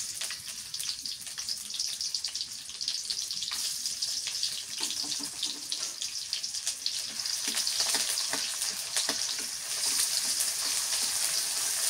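Chopped onion and potatoes sizzle in mustard oil, a continuous bright crackling hiss with scattered pops and stirring clinks, fairly close and steady throughout.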